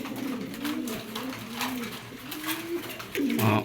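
Budapest racer pigeons coo in a low, repeated, throaty warble up close, with soft fluttering and background rustle.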